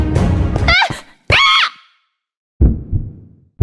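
Mikey, a character in an animated Minecraft story, screams: two loud, high, wavering cries close to the mic, followed after a pause by low groaning sounds.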